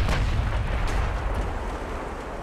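Heavy naval gunfire striking a light cruiser in the warship game Ultimate Admiral: Dreadnoughts, deep rumbling booms and blasts rolling continuously, loud and close, slowly easing off.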